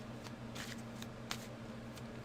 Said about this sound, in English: I'm still shuffling because I just don't feel it yet.